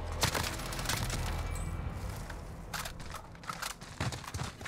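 Gunfire in the Call of Duty Warzone video game: bursts of rapid shots crackle over steady game ambience, with several sharp volleys near the start and again toward the end.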